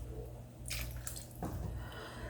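Water poured into a pot of coconut rice cooking on the stove, a brief splashing gush with a softer follow-up trickle, set against a low steady background hum, no talking.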